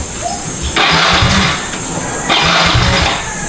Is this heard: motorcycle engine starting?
yes